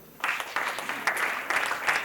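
An audience at a live comedy show claps in short, rhythmic bursts, moderately loud in a hall, with brief gaps between the rounds.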